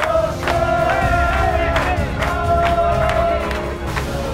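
Ice hockey fans in an arena crowd cheering loudly and continuously, a dense roar with whoops and some clapping mixed in.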